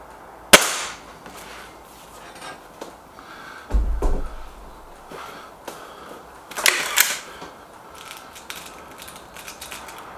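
A Gamo Whisper X air rifle firing a single sharp crack near the start, followed by softer mechanical clunks and knocks from handling the rifle, with no voices.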